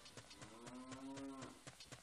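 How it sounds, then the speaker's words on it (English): A cow moos in the video game Zelda: Ocarina of Time. There is one long, clear, low moo over a faint rhythmic background of game sound. "Why do I hear a cow?"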